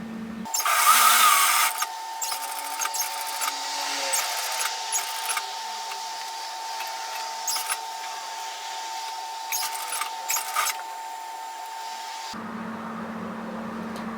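Domestic sewing machine running a steady, continuous stitch along a messenger bag seam, a close even mechanical whir with a short louder start, ending abruptly as it stops.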